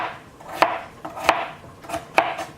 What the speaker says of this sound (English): I'm gonna put my knife between. And then we're going to cut it